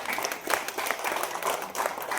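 Audience applause at a Marathi television serial press launch, a steady round of clapping from a crowd that swells and dips over a couple of seconds, with no talking over it.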